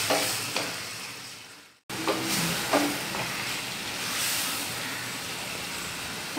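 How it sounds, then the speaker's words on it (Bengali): Chicken masala frying in oil in a pan with a steady, close sizzle, briefly cut to near silence, then resuming with stirring scrapes over the continuous hiss. "একটু ফ্রাই করবো যতক্ষণ না তেল ছাড়ছে"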